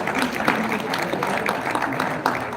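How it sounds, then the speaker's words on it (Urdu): Crowd applause for a prize winner at a competition award ceremony, a dense steady patter of many hands clapping with a few sharper bursts, while a voice talks over it. "رخشندہ صاحبہ کے لیے بھی بہت ساری تالیاں."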